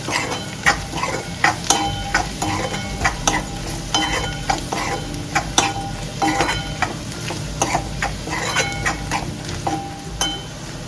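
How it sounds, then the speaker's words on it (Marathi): Onions with turmeric and chili powder sizzle steadily in a pan while a spoon stirs and scrapes in frequent clicks, a close, continuous frying sound for Maharashtrian poppy seed curry. "परतून घेऊ."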